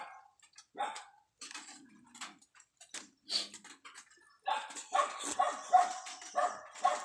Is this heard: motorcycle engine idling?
no